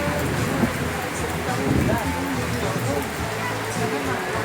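Light rain falls at Samet Nangshe viewpoint in Phang Nga, Thailand, a soft continuous patter and hiss on surfaces, with brief faint voices mixed in.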